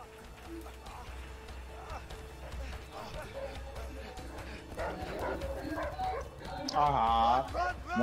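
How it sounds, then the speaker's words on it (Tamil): A dog barks and yips in a video game, short repeated barks under constant game music and effects, with people talking over it throughout and a loud burst of game sound near the end. "மோசமான நாய் விட்டாங்கடா"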